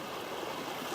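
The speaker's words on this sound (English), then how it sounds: "I can hear a lot of water through here." Water rushing steadily along a bushland creek on the Great North Walk near Mooney Mooney Ponds, Brisbane Water National Park, a broad continuous wash with no break, fairly close.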